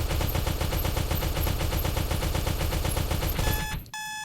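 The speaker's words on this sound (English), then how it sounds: "when you empty the mag," A rapid-fire gun in the space station game SS14 blasts a dense, continuous stream of shots until the magazine runs empty, then a steady electronic beep sounds as the automatic reload kicks in.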